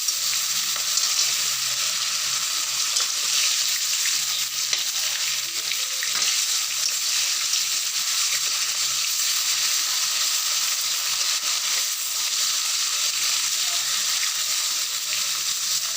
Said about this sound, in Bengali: ওই যে মাছ ভাজি বসিয়ে দিয়েছি